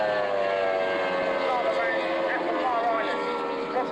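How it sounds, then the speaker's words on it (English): A Formula 2 racing powerboat roars past on a circuit at Fairford in 1994, giving a steady loud engine drone with a shifting pitch that fills the whole moment. "Paul Harris, boat number 34 for Alba Paper goes through."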